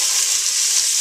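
Onions sautéing in olive oil alongside carrots for lentil soup make a steady, close hiss and crackle of frying that holds even and unbroken throughout, with no voices.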